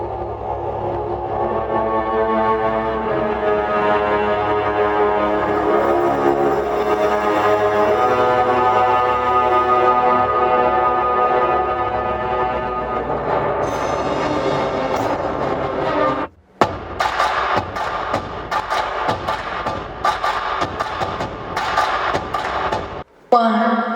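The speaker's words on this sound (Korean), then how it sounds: "뱅앤올룹슨 3D 오디오 사운드 시스템 들어와 있습니다" Music plays loud and full through a Bang & Olufsen 3D sound system with 16 speakers and 710 W inside an Audi RS e-tron GT, steady for about sixteen seconds, then a brief cut before a more percussive track continues.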